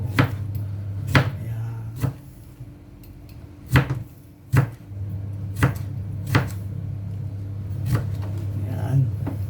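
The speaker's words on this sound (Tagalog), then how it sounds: "tayo naman ay maghiwa ng kamatis" A knife chops a tomato on a board in about a dozen distinct close thuds at an uneven pace over a low steady hum, with someone speaking briefly.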